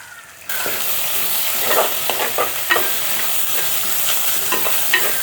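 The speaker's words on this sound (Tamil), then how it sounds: "அப்படியே வதக்கி விடுவோம்" Curry leaves sautéed in a pan for Jaffna-style chicken porridge, a sizzle that starts abruptly and stays steady and close, with repeated spatula scrapes and stirring.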